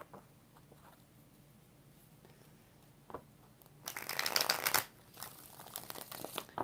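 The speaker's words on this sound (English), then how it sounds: "Two more shuffles for Brandon." Tarot cards are shuffled by hand in a quiet room, a brief soft riffle building into a dense, crisp burst of card flutter lasting about a second, with faint handling rustles before and after.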